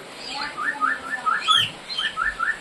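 Pet birds chirp inside a cage, repeated short bright tweets in quick clusters, close and fairly loud, with a brief rustle partway through.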